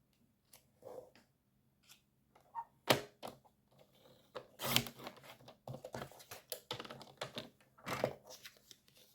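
Paper cut to size for a small handmade card, with soft close snips and taps, a few sharper clicks and rustles in an uneven rhythm, faint and close.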